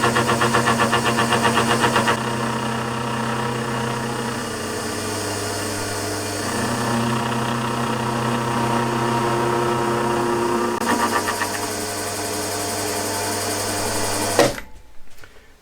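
A gear hobbing machine cuts a 21-tooth gear blank held on a mandrel, making a steady, loud mechanical whir with rhythmic gear chatter that shifts in pitch partway through, then stops abruptly near the end.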